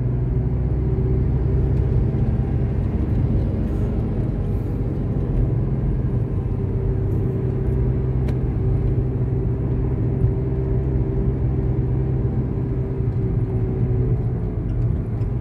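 Vehicle engine pulling uphill in third gear on the road toward Tirumala, a steady, loud, low droning rumble that holds evenly throughout with no pause.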